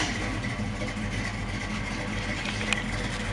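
A 1978 Chevy lifted short-bed step-side pickup with a rebuilt 350 Chevrolet V8, Holley four-barrel carburetor and automatic choke, idling with a steady low rumble and a faint brief tick near the end.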